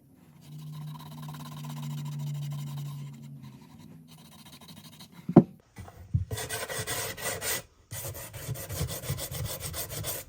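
Sandpaper rubbing over a wooden thrift store tray finished with white wax, heard as bursts of dry scratchy rasping strokes, close and moderately loud, with a quieter hum early on and short pauses between strokes.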